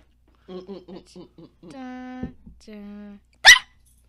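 A voice imitates a puppy, with a run of short yaps, then a drawn-out whine and a second shorter whine, ending in one sharp higher yelp. The sounds are close and clear, with no other noise around them.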